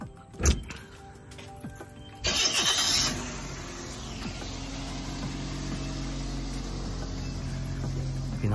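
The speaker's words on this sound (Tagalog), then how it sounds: "Pinandar ni Kuya sa sasakyan." A car engine cranks and catches around the two-second mark, then settles into a steady idle that continues to the end, heard close from inside or beside the vehicle on an island.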